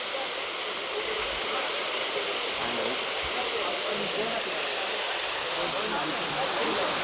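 Waterfall at TK Falls in a forest, a steady, dense broadband roar of rushing water filling the whole clip at constant loudness, with faint low rumbles beneath and no clear voices.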